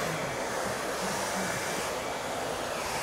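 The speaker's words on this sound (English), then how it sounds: "you can see how smooth and shiny her hair is coming out as she's using the dryer" A Conair Infinity Pro hair dryer runs steadily for the whole stretch while hair is styled, giving a loud, constant broadband whoosh with no voices over it.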